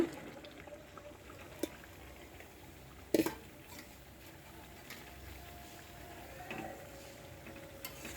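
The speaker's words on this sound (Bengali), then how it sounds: "এটা ভালো করে কষাই নিব।" Eggplant and vegetable stalks sautéing in a pan with potato, a low continuous sizzle punctuated by a few distinct spatula scrapes and knocks, one louder clack midway.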